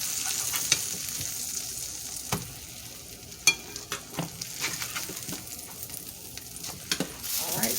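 Grilled cheese sandwiches made with flank roast brown in a hot pan, giving a steady close sizzle and frying hiss with occasional scrapes and clicks as they are pressed and flipped.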